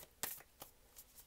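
Quick riffle of tarot cards being shuffled, a few soft papery bursts in a short sequence, close and quiet.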